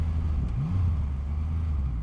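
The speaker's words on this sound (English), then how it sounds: "And that engine sound?" Big Triumph Rocket 3 motorcycle engine idling or rumbling low and steady at close range, a deep continuous throb with a brief rise in pitch partway through, no talk over it.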